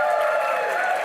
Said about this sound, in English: Let's just hear you clap, if that's what you'd like to see.